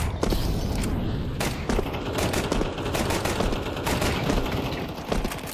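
Decoy grenade in Counter-Strike 2 mimicking gunfire: a loud, close, continuous crackle of rapid shots and bursts with sharp cracks scattered throughout, no talking.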